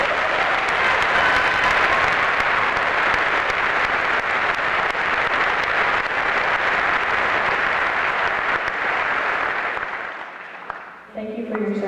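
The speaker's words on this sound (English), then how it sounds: "If everyone could please give these students a round of applause." Sustained, loud applause from a large audience at a high school graduation ceremony for the Class of 2019, steady dense clapping for about ten seconds before fading out.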